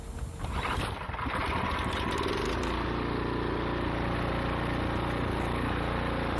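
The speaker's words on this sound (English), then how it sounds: "start the engine" A Cub Cadet snowblower engine starts after being primed with the throttle at fast. It catches quickly and settles into a loud, steady, buzzing idle that continues alone.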